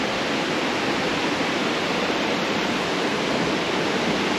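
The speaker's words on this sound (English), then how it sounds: "On a good day when it's not too wet, I've gone up all the way under that waterfall" A waterfall swollen after rain on a guided hike in the Upstate roars in a steady, dense rush of falling water, loud and unbroken, with no voices.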